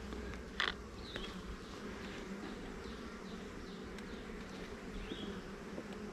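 Bees buzz at a busy hive entrance, a steady droning hum with occasional nearer passes by single bees, plus a brief soft knock early on.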